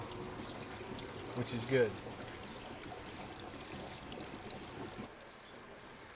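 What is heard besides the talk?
water leaking from a 55 gallon rain drum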